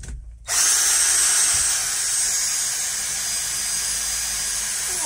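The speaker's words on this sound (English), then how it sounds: "I'm now going to pre-drill that with a small drill" A small power drill pre-drills through a steel van panel, whining loudly and steadily for about four and a half seconds after a brief quiet start, with no talking.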